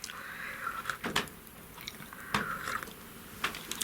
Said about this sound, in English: I'm going to have a slurp of my coffee